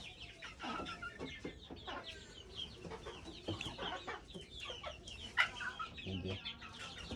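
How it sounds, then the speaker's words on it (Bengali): Local native roosters and chickens on a small poultry farm cluck and call in scattered bursts, fairly faint and somewhat distant, with a louder squawk partway through and a soft voice briefly underneath. "সবগুলো দেশি মোরগ।"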